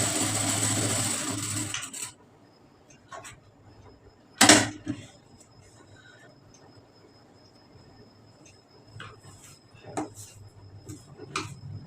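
A sewing machine stitching a foam sponge strip, running in a steady loud burst at the start, then quieter scattered clicks and short handling noises with a sharp knock partway through.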